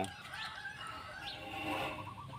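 Chickens cluck around a house, faint and somewhat distant beneath a steady wash of background noise.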